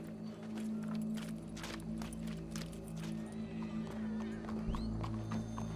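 Horse hooves clip-clop steadily on the ground in the video game Red Dead Redemption II, a soft, even rhythm under a constant low background hum.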